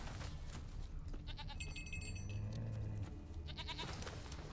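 A goat bleats a few times amid a busy soundscape from The Witcher 3 with music and ambient effects, the calls moderately loud and wavering.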